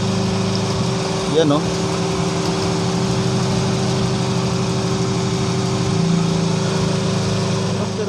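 A small engine runs steadily after its high-tension spark plug wire was replaced, a loud, even idle hum throughout with a brief uneven surge early on and a short spoken remark over it.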